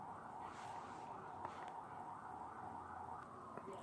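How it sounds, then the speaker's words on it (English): Sirens of passing emergency vehicles, a steady wailing tone heard at a distance over low traffic rumble, with no voices. "Wait for the sirens to pass by."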